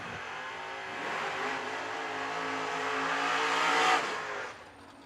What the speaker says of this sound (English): Michael Hornstein in the Camaro on the Creekside, down 562, trying to chase down the Law Chevy Buick Nova of Mr. Josh Lukey